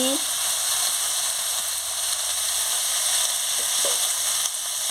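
Vegetables of ridge gourd, snake gourd and potato sizzle steadily in oil after salt and turmeric are added, a continuous close frying hiss with a few faint scrapes of stirring.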